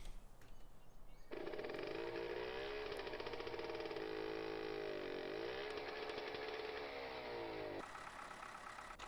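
After a brief moment, an engine in Farming Simulator 15 catches and runs with a loud, buzzing, fluctuating drone that rises and dips in pitch for several seconds.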